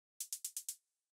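Five quick, crisp closed hi-hat ticks in an even run for an eclectic electronic beat, bright and dry, the last one trailing into a faint short hiss, heard alone.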